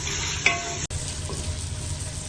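Meat and onions fry in a pan with a constant crackling sizzle, broken by a short metallic clatter early on, and no voices.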